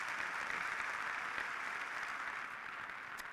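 Audience applause at a University of Maine undergraduate commencement ceremony, a steady, dense wash of clapping from a large crowd that holds level throughout and tapers only slightly near the end.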